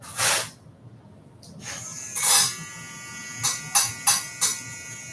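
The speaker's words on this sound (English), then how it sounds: "Trimmer up into it." Hair trimmer buzzing in short bursts during a burst fade haircut in a barber shop, a sharp electric hum rising and cutting out several times, close up, with no talking.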